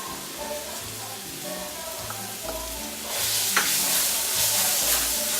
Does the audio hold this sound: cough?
no